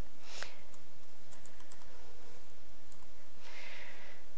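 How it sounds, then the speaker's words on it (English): Sharp clicks from a computer mouse, a single crisp one early and a brief cluster later, close and fairly quiet against a soft room hiss with no talking. "And I'll just click on here."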